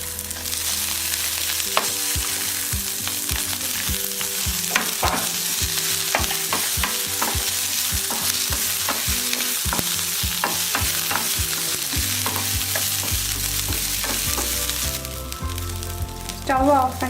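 Onion, garlic and curry leaves sautéing in a pan for coriander seed chutney, a continuous loud sizzle broken by frequent rhythmic scraping and clinking of a spoon against the pan.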